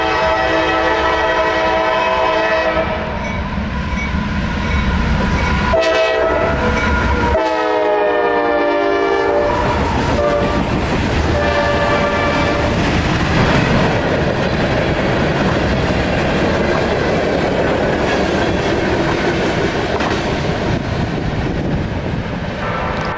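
Freight train M453 passing through thick morning fog in Folkston, loud and close, with a long sounding horn blast followed by heavy rumbling and clattering wagons rolling by steadily.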